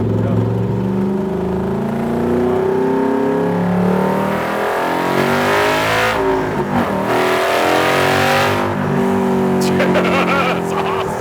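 Superformance MkIII Cobra R with a 5.2 Aluminator V8 making 580 hp accelerates hard, its loud engine note climbing steadily through the revs before an upshift, heard from inside the car as occupants talk over it.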